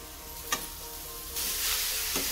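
Jackfruit curry sautéing in a pan on low heat: a steady close sizzle with a couple of sharp spatula scrapes, swelling louder midway as the pan is stirred, no one speaking.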